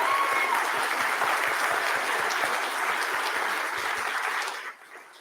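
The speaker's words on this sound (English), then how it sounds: "Give them a round of applause." Audience applause at a writers and illustrators awards ceremony, a full, sustained wash of clapping from a large hall that dies away abruptly at the close.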